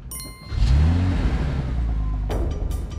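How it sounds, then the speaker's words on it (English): An engine starts and revs: a low rumble swells quickly into a loud, steady roar that holds with a rising whine, then gives faint higher noises near the end. "Engine start."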